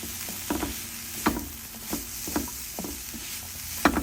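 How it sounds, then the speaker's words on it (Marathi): A vegetable curry fries in a pan while a spatula stirs it, making repeated scraping strokes every second or so over a low, continuous sizzle. "आपण आता हे पुन्हा एकदा हलवून घेऊया"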